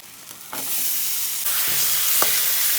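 Washed meat and a few potato pieces go into a hot pan for biryani, and the sizzle jumps louder in two steps as pieces drop in, then holds as a strong, steady hiss.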